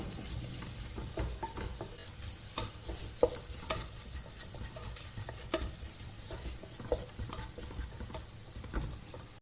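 Spices sizzle and fry steadily in a pan with occasional stirring scrapes and clicks, continuous and fairly close, no talking.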